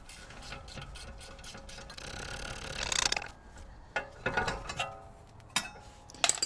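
A manual socket wrench ratchets on a caliper bolt during a BMW E90 brake job, giving irregular close clicking bursts and metallic knocks that grow sharper toward the end, with no talk.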